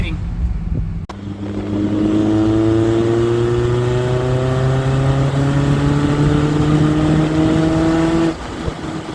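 A 1974 BMW 2002 fitted with a swapped M42 engine drives at steady speed, its engine note holding a smooth, rising tone with broadband road and wind noise throughout, close and loud before easing off at the end.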